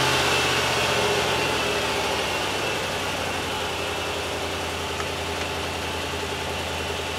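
A Ford 460 EFI V8 idling, a steady low rumbling drone with constant vibration, close and fairly loud, unchanging throughout with no talk.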